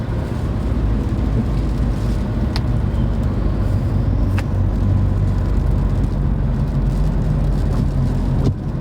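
A car being driven, with a steady, loud low rumble of engine and road noise throughout and only a few faint ticks on top. No one speaks.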